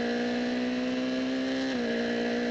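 A GB3 single-seater race car on a hot lap of Snetterton, with a loud, steady high-revving engine drone that drops slightly in pitch near the end.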